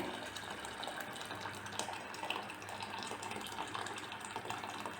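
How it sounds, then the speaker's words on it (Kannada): Steady running water pours continuously into a pot of split mung beans, a broad splashing rush at moderate level with no talking. "ನೀರು ಒಂದಕ್ಕೆ ಎರಡು ಹಾಕ್ತಾಯಿದ್ದೀನಿ"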